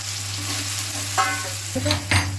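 Potatoes frying in hot oil with spices for a fish dish, a steady close sizzle with a low hum beneath and a few clinks and scrapes of a spatula toward the end, with no voices.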